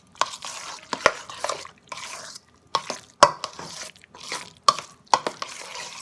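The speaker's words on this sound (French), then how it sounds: "Puis là, on mélange tout ça ensemble." Spoon stirring stuffed avocado filling in a bowl, a run of soft, uneven scraping and clicking strokes close by, with a few sharper taps against the dish and no talk.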